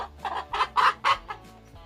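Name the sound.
hen clucking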